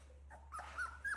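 Young doodle puppies whimper and whine softly at feeding time, thin rising cries close by over a low hum, with no talk.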